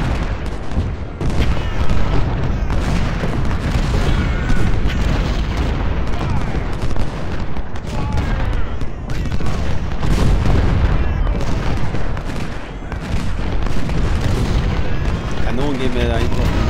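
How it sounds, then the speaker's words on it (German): Cannon and artillery fire in the Civil War strategy game Ultimate General: Civil War at the Battle of Malvern Hill: dense, continuous booming volleys fill the whole stretch, with a voice speaking at times over the battle. "Kanonen geben wir da hinten auf die Nüsse."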